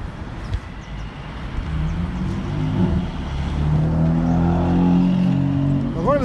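Road traffic in Cookstown town centre, County Tyrone: car engines rumble and pass close by, rising to a steady drone, with a few brief voice sounds near the end.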